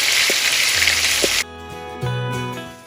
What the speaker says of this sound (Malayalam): ഇത് കണ്ടോ, ചിക്കൻ നന്നായിട്ട് ഫ്രൈ ചെയ്തെടുത്തിട്ടുണ്ട്